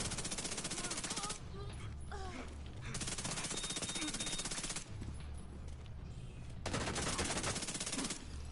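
A Chatterbox submachine gun in The Division 2 fires long rapid bursts, near and loud, broken by brief pauses between strings of shots.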